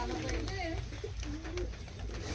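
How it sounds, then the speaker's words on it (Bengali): Sialkoti-breed Giribaz pigeons coo softly in a few short, wavering phrases close by, over a steady background hum with people talking faintly nearby. "শিয়ালকোটি ব্রিডের যে কবুতর পেয়ারটা আমি একসঙ্গে দেখানোর চেষ্টা করছি"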